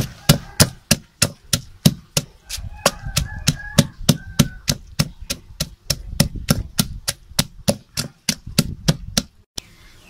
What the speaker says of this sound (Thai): หั่นตำบักพริกเรียบร้อยแต่ว่าตำบ่ให้ละเอียดปานใดครับผมเพราะว่าเป็นการหมกเนาะพี่น้องเนาะ